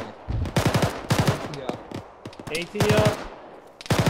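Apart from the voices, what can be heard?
machine gun fire in an ArmA video game firefight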